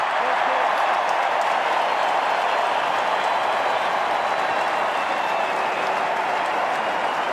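A stadium crowd at an AFL match between West Coast and Fremantle roars in a steady, dense wash of cheering and clapping that holds at constant loudness throughout.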